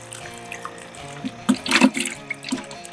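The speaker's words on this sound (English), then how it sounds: "we're going to do 3 bottles of water with 1 bottle of dye" Water and dye are poured from bottles into a bait container for crappie fishing, giving an uneven gurgling, splashing pour that swells in the middle, close by and without talk.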